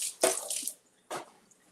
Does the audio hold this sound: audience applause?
no